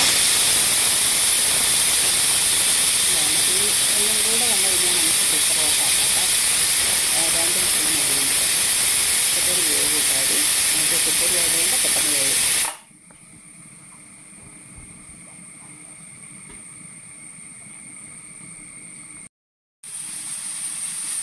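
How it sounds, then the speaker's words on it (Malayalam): A pressure cooker whistle blasts a loud, sustained hissing jet of steam for about twelve seconds, then cuts off abruptly, leaving a quiet kitchen with a faint lingering hiss. "നമ്മുടെ കുക്കർ വിസിലടിക്കുന്നുണ്ട് കേട്ടോ ഒരു വിസിൽ വരുന്നുണ്ട്"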